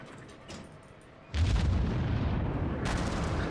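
Main guns of the American tier VII cruiser USS Pensacola firing in World of Warships, a heavy booming salvo that erupts and rumbles on, followed by another crack near the end, loud and close.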